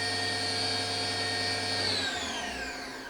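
A Fadal CNC vertical machining center's spindle spins up from around 3,500 toward 6,000 RPM, a steady mechanical whine whose tones climb in pitch over a constant hum, close and loud, then ease slightly at the end.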